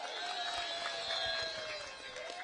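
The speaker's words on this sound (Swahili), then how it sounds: "Mchipigie makofi jamani." Crowd at a Nairobi political rally for Raila Odinga cheering and clapping in a dense, steady roar, with sustained whistle-like tones over the broadband noise throughout.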